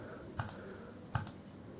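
Two soft, sharp clicks from a USB mouse plugged into a Samsung Galaxy phone, spaced under a second apart over quiet room hiss, with no talking.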